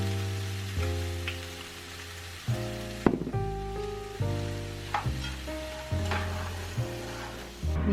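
A chickenless cauliflower stir fry with a little stir-fry sauce sizzles softly in a pan, a gentle frying hiss beneath louder background music.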